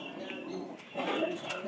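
Pigeons kept in a loft coo softly in the background, with low, faint murmuring calls over the short stretch.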